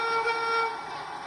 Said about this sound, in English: And there's 2 horns. There's a single horn, and there's a whistle.